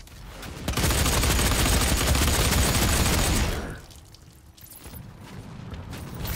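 Sustained heavy gunfire from a DOOM beta multiplayer match on Xbox One, a loud dense burst of shots lasting about three seconds before dropping to quieter game ambience.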